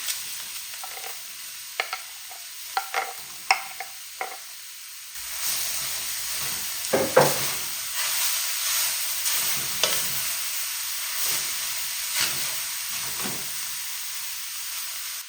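Radish frying and being stirred in a pan for a paratha filling: a few sharp scrapes and clinks, then a steady close sizzle with repeated stirring strokes, no talking.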